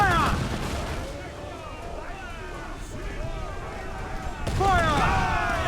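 Cannon volleys in a naval battle video game, with booming shots and rumble under shouted orders from the crew, and a louder blast near the end.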